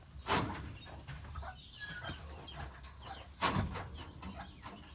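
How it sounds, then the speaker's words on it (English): Chickens clucking and chirping in a coop as young chicks are let out, soft overlapping calls with a couple of louder bumps or flaps, near and fairly quiet. "now I'm going to go and let out the chicks."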